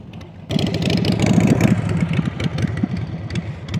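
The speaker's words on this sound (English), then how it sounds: "Listening to the engine. Sounds good." A motorcycle engine starts up abruptly and settles into a steady, close, throbbing idle during an outdoor riding lesson, running alone with no talk.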